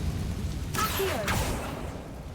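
An Accio summoning spell cast in Hogwarts Legacy: a brief magical whoosh with gliding, shimmering tones rises out of a low game-world ambience and then fades back.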